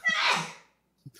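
A single human sneeze, short and breathy with a sharp burst of air, fairly close, followed by a brief faint sniff after a pause.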